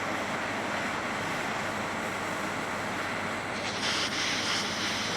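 Steady broadband wind rush blowing outdoors beside a bonfire, loud and continuous with a slight swell near the end, no voices.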